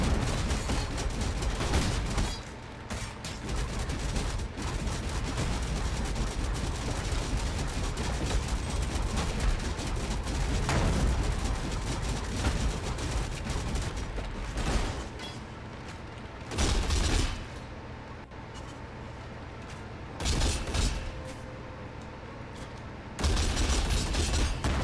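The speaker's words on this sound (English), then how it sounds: "Exploding corpses." Corpses explode in a video game as a dense barrage of bursts and booms, rapid and continuous, broken by brief pauses before the blasts resume loudly.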